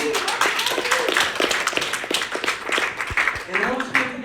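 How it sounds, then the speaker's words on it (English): An audience at an informational meeting applauds, a dense, steady patter of many hands clapping close by, with voices mixed in. "can I get another round of applause just for him?"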